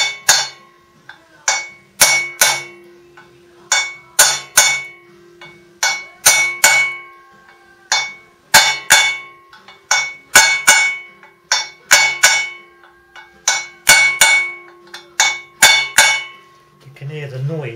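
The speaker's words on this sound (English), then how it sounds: "You can hear the noise change when the bearing bottoms out." A hammer strikes a metal punch to drive out old wheel bearings on a Suzuki RGV 250, landing in quick bursts of two or three sharp, ringing clanks with short pauses between them, loud and close, the pitch changing as the bearing bottoms out.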